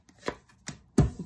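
Tarot cards being shuffled by hand, a few quick papery riffles and slaps at close range, the last one loudest, with no talk over them.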